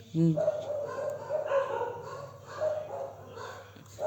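Dogs barking nearby, one sharp bark at the start followed by softer yips and whimpers, with indistinct voices chattering in the background throughout.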